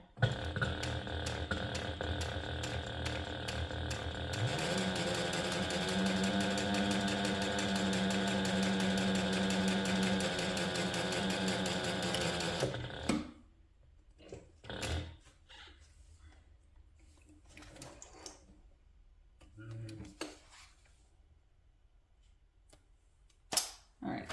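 A sewing machine stitches a handbag pocket shut, its motor whirring steadily with a fast rhythmic chatter for about thirteen seconds before stopping, followed by faint handling noises in a quiet room.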